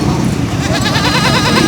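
Goat at a livestock market, a home-raised animal kept with her kid, bleating in a dense, continuous crowd of market noise and voices, the calls blending into the steady chatter.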